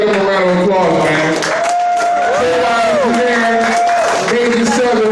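Cheering and clapping rise from the crowd at a music producers showcase in Atlanta, loud and close, with whoops and shouting voices over the applause.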